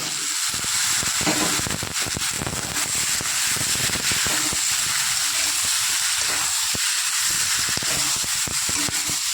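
Cut flat beans, tomatoes and green chillies hitting hot spiced masala in a pan, producing a loud, continuous close-up sizzle and hiss with scattered crackles and spits throughout, no talking.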